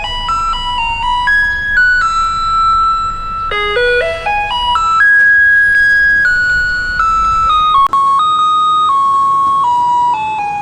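A garbage truck in Taiwan plays its jingle, a bright electronic melody of clear sustained tones. It stays loud and steady throughout, with one brief sharp click near the end.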